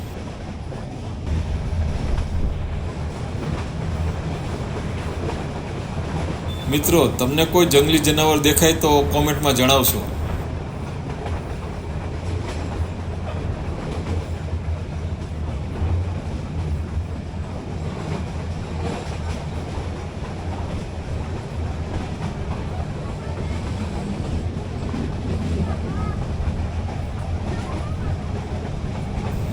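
A meter gauge train runs from Junagadh to Sasan Gir through forest with a steady rumbling, clattering roll. A sharp metallic squeal bursts out for a few seconds early on, and someone narrates over the running noise.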